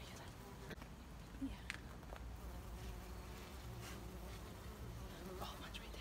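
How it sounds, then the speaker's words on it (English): Black bumblebees buzzing around an avocado tree outdoors, a steady low drone with faint passing whines over background noise, with someone talking nearby. "He's trying to get these bumblebees, the black bumblebees."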